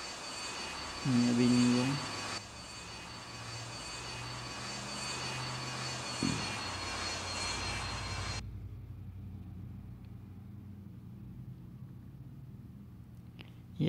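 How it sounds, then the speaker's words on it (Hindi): Airliner engine drone in the Airline Commander flight game during a descent to land with an engine failure, a steady broadband roar throughout with a brief clunk as the landing gear lowers, while someone talks over it. "लैंडिंग गियर की आवाज़ आ रही थी"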